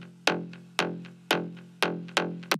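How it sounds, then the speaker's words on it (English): A Serum synth preset bass from a drum and bass track plays six plucky notes at a steady pace. Each note has a sharp bright attack that quickly decays, and the notes are clean and close, with no other sounds. "The Serum preset sounds like this."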